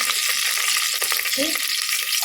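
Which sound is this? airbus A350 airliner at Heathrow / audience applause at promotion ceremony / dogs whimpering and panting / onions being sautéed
onions being sautéed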